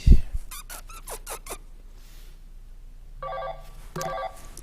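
A telephone rings twice in short electronic bursts indoors, following a few quick squeaky clicks and thumps, with no talking.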